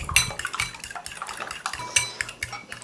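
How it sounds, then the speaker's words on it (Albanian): Eggs beaten in a bowl, rapid rhythmic clinks of a utensil striking the sides in quick irregular bursts, close and clear with no talking. "Vazhdojmë me rajen e vezëve"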